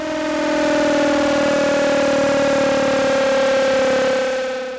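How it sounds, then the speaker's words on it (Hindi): A civil defense siren mounted on the 14th floor of the PWD building near ITO in Delhi wails in a loud, steady tone, sustained without pause and without speech. "लगभग 4 किलोमीटर तक लोगों ने सुनी सायरन की आवाज।"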